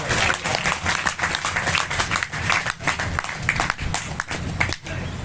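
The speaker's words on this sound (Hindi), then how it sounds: "एक बार उन साथियों के लिए जोरदार तालियां" A crowd at a rally for clerks' rights in Sirsa claps loudly for volunteers who built embankments during floods, dense, uneven applause with occasional dips and surges throughout.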